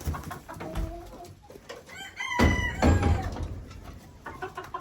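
Hens in a backyard chicken coop cluck and squawk in a busy chorus, with a louder burst of calls in the middle, close and alone without talk.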